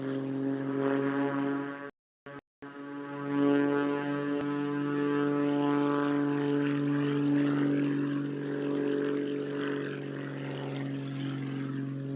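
An aerobatic propeller airplane performs a roll and Cuban 8 at a naval air station air show, its engine a steady, droning buzz that holds loud and close with a brief dropout early on.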